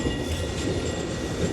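Steady rumble of trains at Rotterdam Centraal railway station in Holland, a continuous rail noise with rolling wagon sounds and a faint clickety-clack, no voices.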